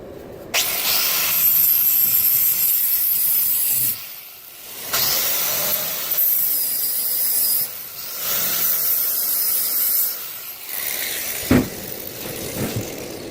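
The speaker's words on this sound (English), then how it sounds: "I got the flapper wheel on there now, and I'm gonna grind off from the weld" An angle grinder fitted with a flap wheel grinds a weld off an end table repair, a loud harsh rasping hiss that runs in several bursts of a few seconds each, separated by short pauses.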